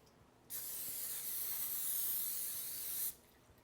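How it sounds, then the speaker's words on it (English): A single continuous hiss of non-stick cooking spray lasting about two and a half seconds, close and fairly loud, with a sharp start and stop. "This is a non-stick spray."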